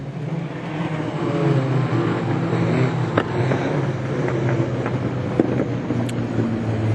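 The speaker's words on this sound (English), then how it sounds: "Smith as our race leader goes up and takes the checkered flag to win from Mark Littlehales, Peter Warren" Race cars in the National 4's feature final at Gympie Speedway, a steady engine drone with wind buffeting, heard from a distance and holding a constant level for the whole stretch.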